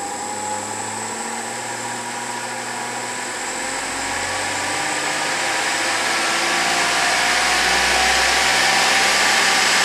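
A brushless DC motor with Hall sensors whines steadily as it runs, its pitch gradually climbing as the speed increases, alone and fairly loud, with a hum beneath.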